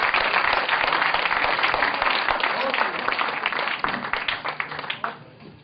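Hearty applause from an audience at a Holi comic poetry recital in Delhi, a thick wash of clapping that holds steady, then thins and fades out over the last second or so.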